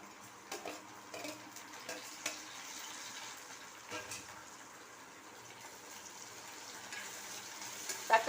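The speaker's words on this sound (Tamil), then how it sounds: "தக்காளியும் சேர்த்து 2 நிமிஷத்துக்கு நல்லா வதக்கிக்குவோம்." Onions and tomatoes sautéing in an oiled pan for a Tamil wheat flour masala rotti, giving a steady soft sizzle with occasional stirring scrapes and a louder clatter near the end, with no voices.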